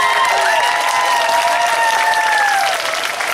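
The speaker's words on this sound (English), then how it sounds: "Can we give them a round of applause, please?" An audience at a school concert applauds, with dense, loud clapping and a few whistles and cheers that hold steady across the whole stretch.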